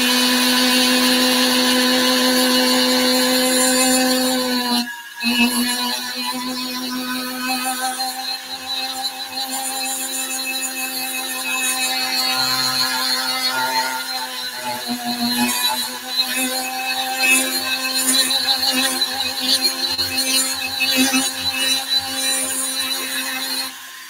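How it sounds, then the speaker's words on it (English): A flexible shaft rotary tool spins a burr while carving the fullers of a stiletto tri blade, giving a steady, loud, high whine that briefly dips once before continuing unbroken. "I'm currently cutting with the back part of the burr and not the front"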